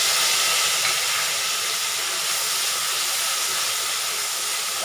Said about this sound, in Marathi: टमाटा थोडासा परतून घेतली.